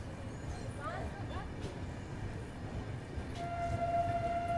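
Avantika Express running in the evening, a continuous low rumble of the moving train with faint tonal whines and a thin sustained squeal toward the end.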